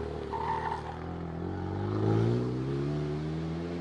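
Renault Megane 3 RS with stage 2 tune, 350 hp and decat exhaust: a steady droning engine note that swells in revs and pitch midway, heard from inside the moving car.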